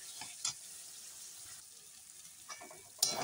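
Masala is stirred and fried in a pan for fish head curry, giving a quiet, close sizzle broken by a few brief scraping strokes.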